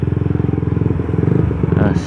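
Yamaha Vixion motorcycle overtaking on the right, a close, loud pulsing engine drone with a rapid rhythmic throb that swells as it passes, while someone talks over it.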